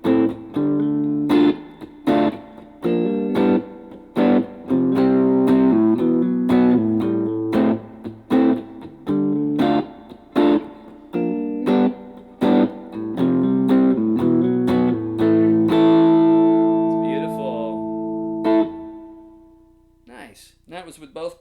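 Electric guitar chords and single notes played with distortion through a Yamaha THR10 MkII amp with both pickups on, then a final chord left ringing with a long reverb tail that fades out.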